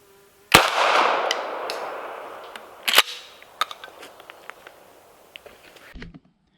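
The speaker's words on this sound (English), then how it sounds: "Second shot, 20 yards, aiming roughly a foot or so above the black dot." A sharp, loud gunshot from wildlife control ammunition fired at a target 20 yards away rings out with a long decaying tail, followed a couple of seconds later by a second sharp crack and scattered light mechanical clicks.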